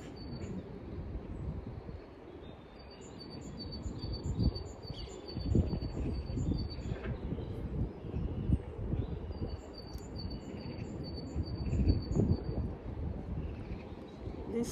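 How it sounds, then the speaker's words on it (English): Birds chirping outdoors in a repeated high twittering pattern, moderately loud over a dense, rumbling background of wind or traffic-like noise. "you just want to remain calm and listen to the birds"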